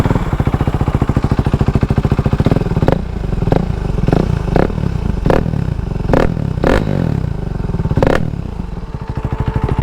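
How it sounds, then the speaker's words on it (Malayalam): A 390 motorcycle's exhaust throbs loudly and close, its steady rapid idle pulse broken by a series of sharp throttle blips and crackles, ending in a rising rev. "ഇനി നിങ്ങൾ കേൾക്കാൻ പോകുന്നത് ഇതിൻ്റെ എക്സോസ്റ്റ് ആണ്."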